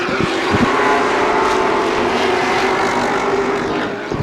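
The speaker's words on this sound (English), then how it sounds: "Sounds like a motor a little bit further back, sounding a little sour." Late model race car engines at a quarter-mile oval feature race, a dense roaring pack of motors with one slightly rough, sour-sounding engine further back, loud and continuous throughout.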